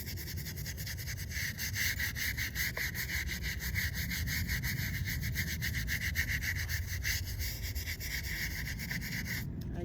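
Steady brushing and scrubbing on a long stone headstone in a cemetery, a continuous close rasping rub with no pauses and no talking.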